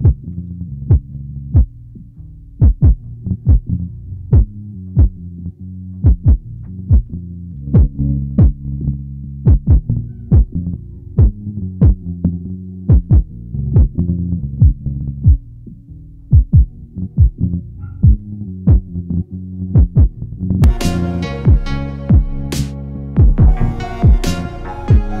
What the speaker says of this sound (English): Now you're giving that kick a little more saturation on that